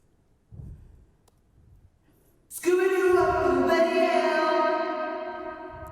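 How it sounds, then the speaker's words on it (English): After a short quiet stretch, a bright tonal sound rings out and lingers with a long, echoing reverberant tail that slowly fades. "So reverb sounds like this."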